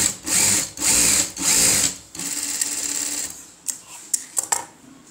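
An electric sewing machine stitches thread piping on fabric in three loud, whirring bursts close by, followed by softer clicks and handling noises as the fabric is adjusted.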